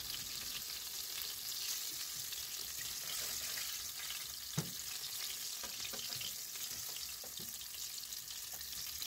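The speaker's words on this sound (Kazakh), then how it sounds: "Барлық котлеттерімізді дәл осылай қуырып шығамыз." Fish cutlets fry in oil in a pan, a steady close sizzle with frequent small crackles and one sharper pop, fairly quiet and alone.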